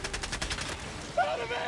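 A sentry turret in a video game fires a rapid stream of shots in a short, quick rattle.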